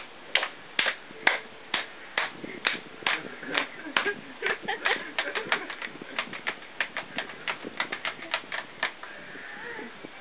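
Sharp handclaps in a steady, fairly quick rhythm keep time for someone dancing, close and crisp, with occasional voices heard faintly underneath.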